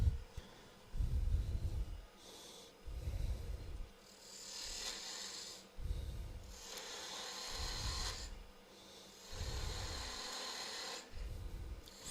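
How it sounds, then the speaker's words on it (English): A 3/8 inch spindle gouge cuts wood on a turning lathe, rhythmic rasping passes swelling and fading about every two seconds over a low motor hum, close and moderately loud, with no talking. "We're going to come in with a 3/8 inch spindle gouge."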